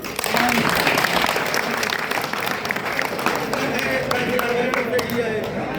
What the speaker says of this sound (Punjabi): ਜੇ ਸਟੈਂਡ ਦਿੰਦੇ ਹੋ ਤਾਂ ਇੱਕ ਵਾਰ ਤਾੜੀ ਮਾਰੋਗੇ